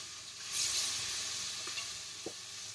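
Chicken pieces for a stew chicken sizzle steadily as they brown in a pot, a continuous close hiss with a few faint clinks from stirring.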